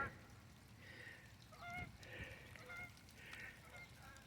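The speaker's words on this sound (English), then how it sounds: "you can hear the Canada geese flying north" Canada geese honk while flying north over a farm in spring, faint distant calls repeating in loose bursts over quiet outdoor background.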